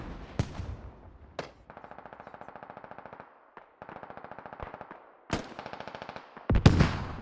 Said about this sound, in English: I think those are smoke rounds